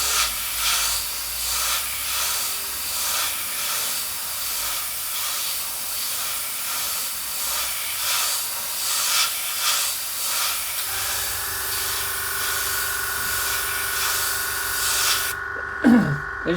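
An airbrush sprays undiluted acrylic model paint straight from the bottle with a steady, close hiss, joined partway through by a faint compressor hum and ending with a short clatter.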